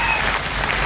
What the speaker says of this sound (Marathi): जर आवड असेल तर जोरदार टाळी पाहिजे